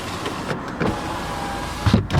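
Electric front window motor in a 2016 Peugeot 208 whirs steadily for about two seconds, close and alone inside the car, ending with a brief clunk as the glass reaches its stop.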